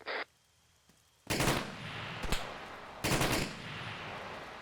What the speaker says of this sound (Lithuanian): Kas čia iš pastato šaudo?